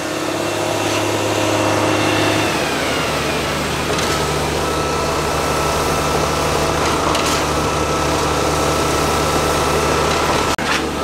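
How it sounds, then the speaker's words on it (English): A concrete mixer truck's engine runs loud and steady while pouring a new shop floor, holding a constant rumbling drone with a short higher whine near the start and a brief knock near the end. "So the first truck is already washing. Second truck's been on there."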